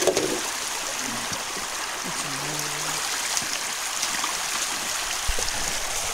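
Water from a stream rushes steadily through a gold sluice box on the East Fork San Gabriel River. The broad, continuous outdoor flow is loud and close, with faint low murmurs of people talking in the background.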